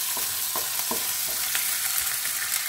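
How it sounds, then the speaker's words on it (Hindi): Finely chopped ginger frying in a pan for Indian dal tadka, a steady broadband sizzle with a few soft scraping stirs, close and continuous with no talk. "अदरक नूं भुन लेंगे।"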